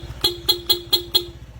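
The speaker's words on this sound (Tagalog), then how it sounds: "stock horn." Stock horn on a Honda PCX160 scooter gives five short, evenly spaced toots, loud and close, over a low idling engine rumble.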